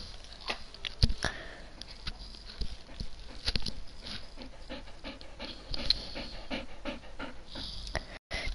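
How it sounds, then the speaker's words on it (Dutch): A pet dog pants rapidly and sniffs close by, quiet but steady, with a few louder snorts and shuffles in between. "Dat is mijn hond, dat jullie hoorden."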